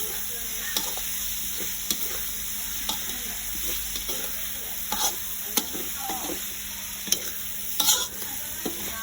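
Pork stir-fried with chili and holy basil in a pan, giving a steady sizzling hiss with repeated scraping and stirring strokes close by.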